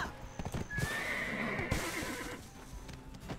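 Horse hooves clip-clop in Black Desert Online, a rhythmic series of hoof strikes accompanied by a whinny, fairly close and heard without talking.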